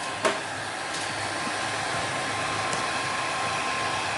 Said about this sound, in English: Heat it up a little and then try to push it.